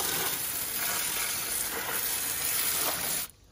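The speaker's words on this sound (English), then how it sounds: "Run the water down in this thing" Water hissing and splashing steadily into an LQ4 engine part during a degreaser clean-up, a close, continuous rushing stream that stops abruptly at the end.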